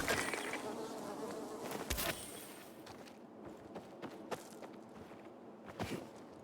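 Insect buzzing from bees in the game Dying Light 2, a steady drone with sharp percussive hits and footstep-like thuds over game ambience.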